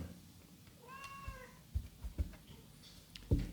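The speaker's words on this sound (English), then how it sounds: "that was Leia, my fourth cat that I managed to convince to come out to speak to you guys today" A cat gives one clear, quavering meow up close, followed by soft thumps and shuffling movement nearby, with no one speaking.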